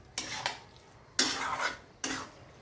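Small karadi fish are stir-fried in a pan, with three scraping, rattling strokes of a spoon against the pan over a soft sizzle, close and fairly quiet; no talking.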